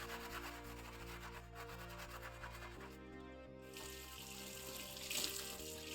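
A new stone mortar and pestle scrubbed with dish soap and water, a continuous wet rubbing and grinding texture over running water, close and fairly quiet, with a steady hum beneath it and no talk.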